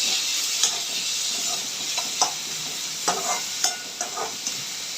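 Finely chopped tomato frying and being stirred in a pan while cooking a dry capsicum and potato dish, giving a steady close hiss and sizzle with several soft stirring scrapes and taps.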